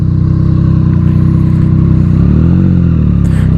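A 2018 Triumph Street Triple RS cruising around town in fourth or fifth gear, its engine giving a close, loud, steady low rumble with a slight swell in revs partway through.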